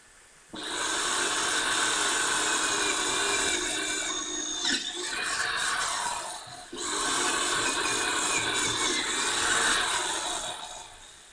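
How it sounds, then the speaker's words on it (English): A power drill whines steadily for several seconds, briefly dips and stalls, then runs again at a high buzzing pitch, close and loud, while a letterbox is put up on a house front door. "She was using an electric drill to put up a new letterbox."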